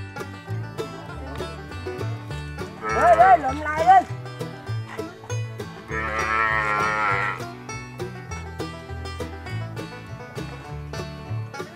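Cattle being herded on a Vietnamese farm give two drawn-out moos, one wavering and one long and steady, moderately loud over ongoing music or background sound with a clip-clopping rhythm.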